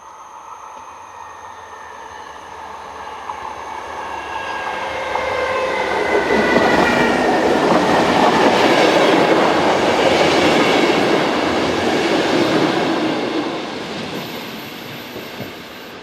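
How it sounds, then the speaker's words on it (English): A Belgian AM82 electric train set rolls west through Melzele station from Antwerpen, its rumble and wheel clatter swelling from a distance to a loud pass over several seconds before fading away. "This AM82 train set heads west with a service from Antwerpen. The train is seen passing through Melzele station"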